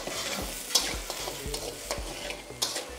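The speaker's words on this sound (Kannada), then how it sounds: "ಇದಾದಮೇಲೆ ಗಸಗಸೆ 1/2 ಸ್ಪೂನ್, ಇಷ್ಟನ್ನು ಇವಾಗ ಎಣ್ಣೆ ಜೊತೆಗೆ ಹುರ್ಕೊಳ್ಳೋದು." Green chillies, coriander and poppy seeds frying in oil in a pan for mutton chops, a steady close sizzle with repeated scraping strokes of a spoon stirring at an even rhythm, no voices.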